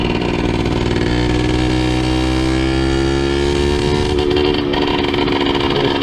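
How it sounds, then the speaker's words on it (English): A cheap moped's engine runs loud and close, its pitch shifting as throttle is applied and the power stumbles and cuts out, with steady road and wind noise throughout. "Cutting out when I apply throttle."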